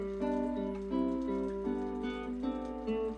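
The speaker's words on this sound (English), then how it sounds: "Spanish guitar." A classical Spanish guitar with nylon strings, played with the fingers, gives a brief run of soft, warm plucked notes that ring into one another, close and unaccompanied.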